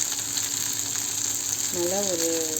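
Spicy prawns fry in oil in a pan, giving a steady, close sizzle throughout with a brief tonal squeak or scrape near the end.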